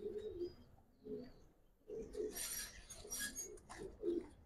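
Giribaz pigeons, young birds in a loft, give soft low cooing phrases in several short bursts, with brighter fluttering or rustling sounds in between, close by and moderately quiet.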